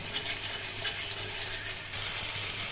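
Spice paste frying in a pan for a Bengali rui doi fish curry, a steady, dense sizzle and crackle that holds without pause from start to finish, with no talking.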